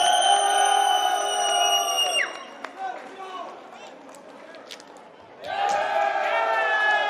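Crowd at boxing tryouts in an Atlanta fight club cheering and shouting loudly in two bursts, with a quieter lull of scattered chatter between them.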